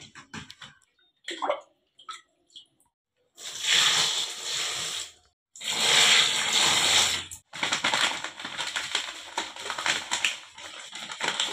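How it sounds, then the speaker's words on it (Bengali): Water sloshes and splashes as clothes are pushed down to soak in a bucket, with scattered small knocks first, then steady close splashing bursts. "তো এখন আমি কাপড়গুলো বালতিতে ভিজিয়ে রাখবো।"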